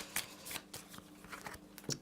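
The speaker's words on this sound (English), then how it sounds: "And I draw up, which means I need to shuffle." A deck of fantasy deck-building game cards is shuffled by hand in short, crisp riffling bursts, quiet and close with no talking.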